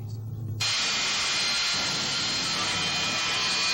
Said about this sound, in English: latest race car, his jet-powered dragster